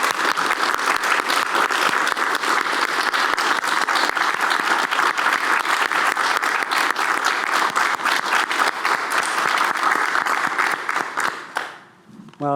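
Sustained, dense audience applause at a student pledge ceremony, loud and steady for about eleven seconds before tapering off abruptly.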